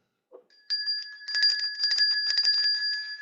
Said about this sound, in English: Give her a bell ring, Joe.